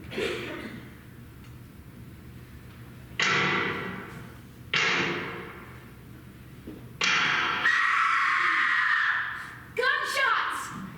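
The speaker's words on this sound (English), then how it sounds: "Gunshots!" Four sharp, loud stage gunshots crack out at irregular intervals, each with a brief ringing tail, and muffled voices fill the gaps between them.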